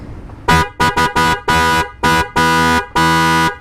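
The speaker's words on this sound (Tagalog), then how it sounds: "Ngayon ay magte-testing tayo ng busina." A loud motorcycle horn honks seven times in quick succession, short toots and longer blasts, close by and with no other sound around it.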